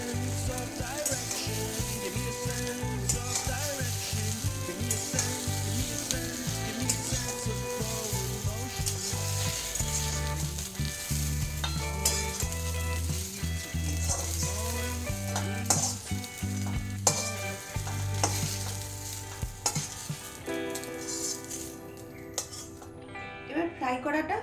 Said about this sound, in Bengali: 5 মিনিট ফ্রাই করুন।